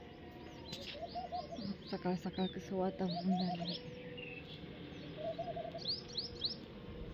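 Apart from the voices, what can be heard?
birds chirping in the morning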